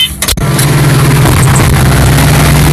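A motor runs steadily close by at the edge of a relay-cropped field with manure, wheat and double crops, a low continuous engine hum after a brief clunk at the start.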